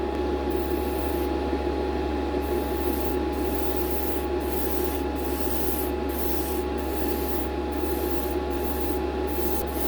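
An airbrush sprays enamel paint onto a model hood, giving a steady continuous hiss broken by short regular gaps as the trigger is released and pressed again. The sound is close and has no talking over it.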